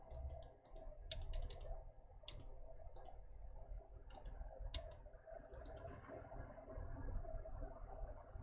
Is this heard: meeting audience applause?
no